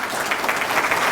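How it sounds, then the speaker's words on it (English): Audience at a First Coast Expressway summit event claps in a brief, steady round of applause, many hands at moderate loudness with no talking. "Please, a round of applause."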